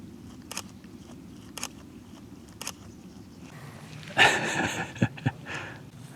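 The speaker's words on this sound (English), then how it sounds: "They're all like chewing." Animals chew on a foggy summer morning in the Swedish countryside, with soft, regular crunching bites and then a louder close rustle and crunch near the end.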